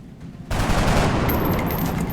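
A soldier's rapid burst of gunfire in XCOM Enemy Within, a loud, dense crackle of shots that starts abruptly after a short quiet lead-in and carries on steadily to the end.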